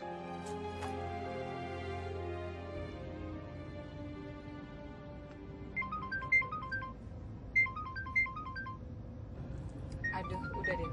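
A phone ringtone playing in short repeated bursts of a bright electronic melody, faint and somewhat distant over a low background hum, with a brief tonal passage before it.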